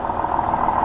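A farm tractor engine idling with a steady, even hum and a constant drone, running alone without any pauses or changes in pitch for just under a second.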